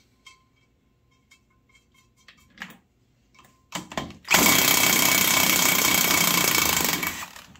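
A power tool works on a 1990 Chevy 4wd engine head to remove a pressed-in rocker stud. After a few faint clinks and taps, a loud, steady, harsh grinding roar runs for about three seconds and then trails off.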